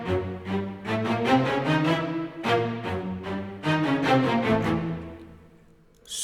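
Orchestral short strings from the Metropolis Ark 5 sample library play aggressive, punchy repeated staccato chords in driving rhythmic bursts, full and loud with no voices.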